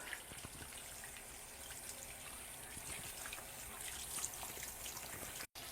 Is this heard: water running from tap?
yes